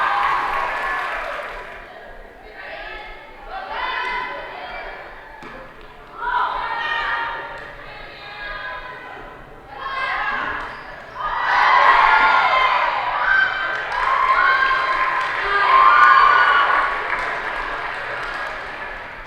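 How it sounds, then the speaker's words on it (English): A loud crowd at a sports game cheers and applauds in swelling bursts that build toward a sustained roar, with a commentator talking over it. "Crowd was loud in this one."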